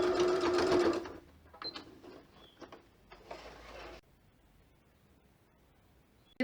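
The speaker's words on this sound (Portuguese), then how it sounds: "Eu acho legal iniciar essa costura com retrocesso e finalizar com retrocesso também, mesmo que seja a costura de segurança." A sewing machine runs a short, steady stitching burst on a fabric seam with backstitching, then stops; brief quieter mechanical clicks and a second short run follow before near silence.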